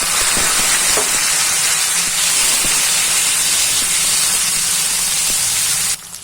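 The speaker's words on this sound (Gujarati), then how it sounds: "આપણે આદુ લસણ લીલાની પેસ્ટ નાખી દઈશું મરચાંની ત્રણેયની છે અને ટામેટું નાખી દઈશું" Tomato and a ginger, garlic and green chili paste hit hot oil in a pan while cooking moong dal, making a loud, constant sizzle and hiss that cuts off abruptly near the end.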